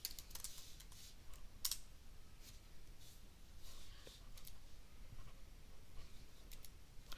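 Light clicks from a computer keyboard come in short bursts of typing, faint and close, with irregular gaps and a few louder key taps against quiet room hiss.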